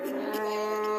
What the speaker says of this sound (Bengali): এখানে একটা ফ্রিজিয়াম জাতের গাভি দেখা যাচ্ছে।